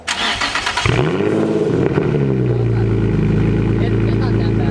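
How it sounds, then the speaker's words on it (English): Nissan 350Z fitted with a Tomei exhaust cranks and fires up, the engine catching with a rev flare before settling into a deep, steady idle rumble; people talk briefly over the starter at the beginning. "Start the car."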